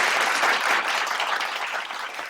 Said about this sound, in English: Let's have a round of applause for all of those people.